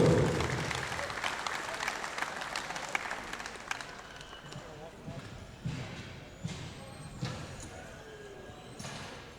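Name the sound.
applause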